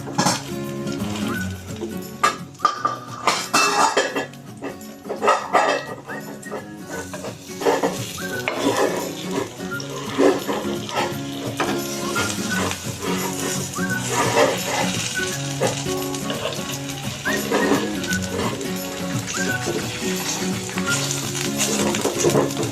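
Whole eggplant fritters (beguni) fry in hot oil in a village kitchen. Close, continuous bubbling and sizzling mixes with pan clatter and stirring, and a dog barks in the background.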